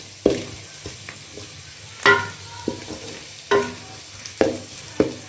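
Onions browning in a pan with salt added, stirred in repeated scraping strokes over a steady sizzle, loud and close with no talk.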